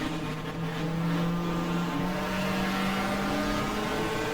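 Race car engine in the GTR2 racing game at Winton, 1994 Australian Manufacturers Championship, droning steadily at close range with a sustained tonal whine that dips as the car downshifts to second gear onto the front straight; no talk.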